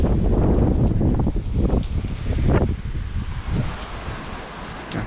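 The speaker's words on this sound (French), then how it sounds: "On voit le rideau de pluie qui tombe là." Loud, dense rain pours down in a steady wash during a severe thunderstorm, with gusty wind buffeting the microphone throughout.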